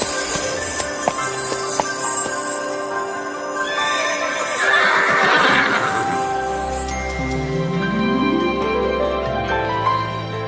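Horses neigh and whinny loudly over a swelling musical backdrop, with a long whinny in the middle and hooves clip-clopping, in a fantasy story about magical horses.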